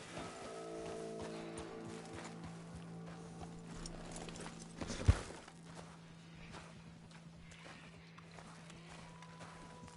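Horse hooves clip-clop in the game Red Dead Redemption 2, a steady mid-level patter of footfalls over a low ambient hum, with one sharp louder thump midway.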